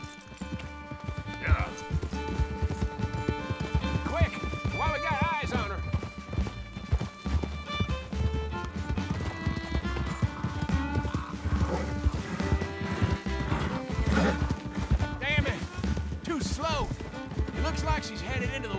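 Horse hooves gallop in Red Dead Redemption 2, a rapid, rhythmic clip-clop with occasional whinnies, mixed under game music and voices talking.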